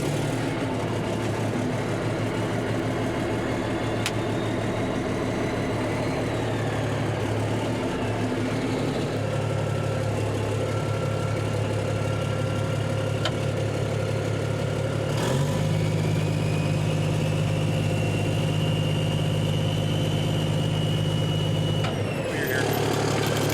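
A vehicle engine drones steadily as it drives across an auction lot, with a low hum throughout and a rise in pitch partway through. Gear cylinders are carried along. Faint clanks come and go.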